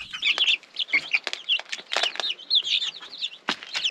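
Young baby chicks, seven half-grown birds, peep and cheep in a busy high-pitched chorus with overlapping chirps and occasional wing flutters, close by and continuous.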